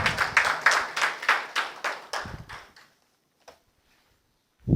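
Applause for a named recipient at a document distribution ceremony in a Karachi hotel, a quick burst of close rhythmic clapping that thins out and stops, followed by near silence and a couple of isolated knocks.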